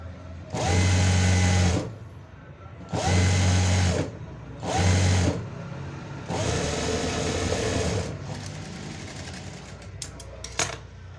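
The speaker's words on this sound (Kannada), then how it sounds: "ಈ ರೀತಿ ಇಟ್ಟು ಎಡ್ಜಲ್ಲಿ ಸ್ಟಿಚ್ ಹಾಕ್ಕೊಳ್ಳಿ" A sewing machine runs in four bursts of rapid stitching along the edge of an Anarkali kurti panel, loud and close with short pauses between runs, followed by quieter handling noises.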